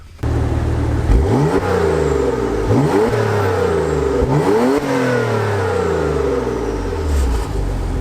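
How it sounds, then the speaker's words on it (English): A Porsche engine revs up repeatedly, rising and falling in pitch several times over a steady, loud idle, heard up close with no talking. "Let's give it a little rev."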